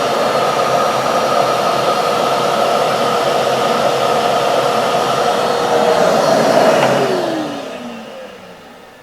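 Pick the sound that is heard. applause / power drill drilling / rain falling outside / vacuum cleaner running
vacuum cleaner running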